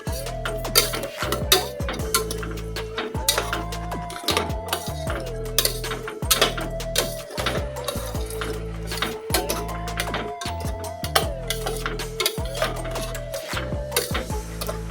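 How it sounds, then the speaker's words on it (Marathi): Sugar mixture stirred in a metal pot with a utensil, giving repeated scraping and clinking strokes in a steady rhythm over a constant low hum, close and fairly loud, with no talking. "याला चांगलं जोपर्यंत घट होणार नाही तोपर्यंत त्याला हलवून घ्यायचं"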